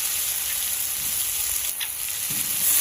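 Bay leaf, dried red chillies and green chilli paste sizzle in hot oil in a village-style Bengali kitchen, a steady close frying hiss with soft crackles and no voices.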